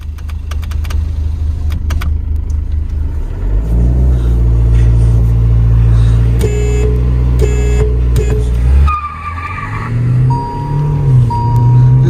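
A Hyundai Verna 1.6 and a Volkswagen Polo 1.5 line up for a drag race: an idling engine swells into a loud, steady rev, holds, then drops and picks up again, with close, continuous engine drone throughout.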